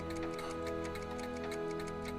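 Clocks tick steadily in Doc's lab in the Back to the Future video game, a regular ticking rhythm over a constant low hum of background music and machinery, with no talking.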